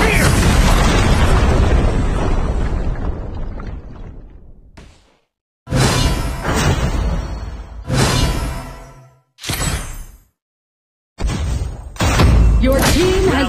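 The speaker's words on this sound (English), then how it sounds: "Your team has destroyed a tower." A tower collapsing in the mobile game Arena of Valor, with a long booming explosion that decays slowly, followed by several sharp whooshing impacts and bursts separated by short silences.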